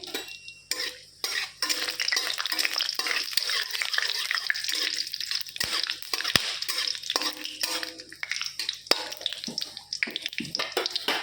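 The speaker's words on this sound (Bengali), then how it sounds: "জিরা ফোড়ন দিচ্ছি। সিদ্ধটা আর দেখালাম না, এটা তেজপাতা দিচ্ছি, গরম মশলা ফোড়ন দিচ্ছি," Cumin, bay leaf and garam masala tempering spluttering in hot oil, heard as bursts of crackling sizzle broken by short pauses, with occasional utensil scrapes, close and fairly loud.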